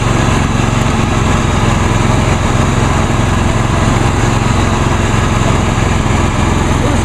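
A 2001 Huskee 46-inch lawn tractor engine with carburetor trouble runs steadily, a loud, close, continuous small-engine drone with a buzzy rasp that holds for the whole stretch and no voices.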